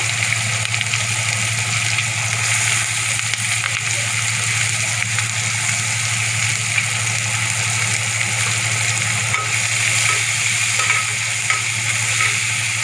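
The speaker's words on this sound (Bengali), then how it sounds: "ভালো করে ভেজে নেবো" Chopped onion and green chili sizzle loudly in an oily pan, a continuous close hiss with faint stirring underneath. No one speaks.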